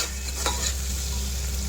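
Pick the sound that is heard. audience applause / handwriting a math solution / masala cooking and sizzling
masala cooking and sizzling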